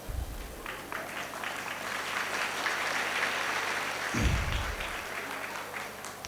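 An audience claps at a speech during a temple fair, giving a dense, steady round of applause that builds and lasts several seconds, heard from within the crowd with a low thump near the end.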